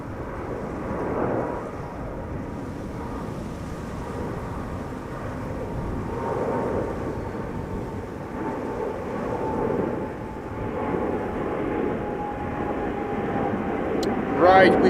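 A Boeing 777-300 airliner at Amsterdam Schiphol Airport, a steady moderate jet rumble with a faint whining tone, surging in mild waves, with a sharp brief clatter close by at the very end.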